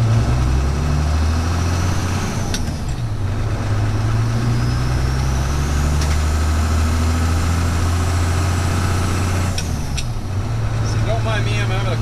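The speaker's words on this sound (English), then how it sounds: "78 square body Cummins" A 1978 Chevrolet square body one-ton dually with a 12-valve Cummins diesel and Getrag five-speed rumbles steadily up close, a deep constant drone that shifts briefly around gear changes while someone talks over it.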